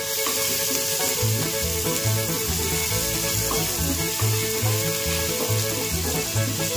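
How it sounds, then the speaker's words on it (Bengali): Potatoes and yardlong beans fry in a pan with a loud, steady sizzle all the way through, broken by rhythmic scraping and stirring strokes. "গায়ত্রী এখানে একটা আলু আর বরবটি দিয়ে একটা ভাজা করছে আজকে"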